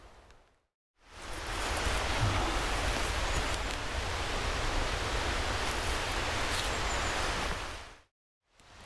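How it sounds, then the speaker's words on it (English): Heavy rain pours down in a forest, a dense, even hiss that rises in after a brief quiet, holds steady for about seven seconds and then cuts off. "the rain has started to come down quite heavily"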